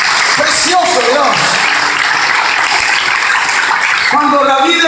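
A church congregation applauds together, a dense and loud wash of clapping that runs the full length, with a voice speaking briefly near the start and again at the end.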